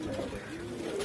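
Soft, low cooing of pigeons, a continuous murmuring tone heard faintly and close, with no other voices.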